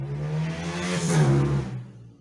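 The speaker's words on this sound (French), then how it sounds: "Ah, il y a une moto." Motorcycle speeding past, its engine note rising to a peak then fading as it goes by, steady and fairly close, with no voices.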